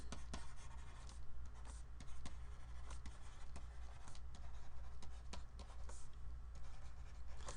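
Pen or marker scratches steadily across a surface while someone writes out math notation by hand, faint and continuous over a low steady room hum, no talking.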